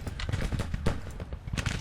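Rapid crackle of musket volleys from Civil War infantry in the strategy game Grand Tactician: The Civil War, dense overlapping shots in an uneven rhythm with no pauses, moderately loud and fairly close.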